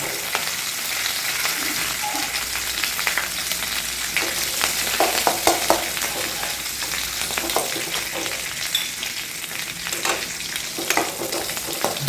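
Curry leaves fry in hot oil for a fish and raw mango milk curry, giving a steady, close sizzle with crackles and stirring scrapes throughout and no talk.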